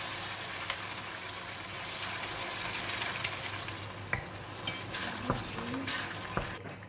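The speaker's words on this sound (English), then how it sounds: "In the pan, I have about 4 tablespoons of cooking oil, and we're going to put in the curry paste that we blended just now." Freshly blended curry paste fries in about four tablespoons of cooking oil for a pineapple and pork rib curry, a continuous close sizzle with occasional sharp stirring knocks against the pan.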